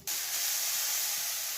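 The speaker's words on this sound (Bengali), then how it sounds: "নারকেলটা আমার ভালো করে ভাজা হয়ে গিয়েছে" Grated coconut frying with melted sugar in a pan, a steady, loud, bright hiss that runs unbroken for under two seconds after a sudden start.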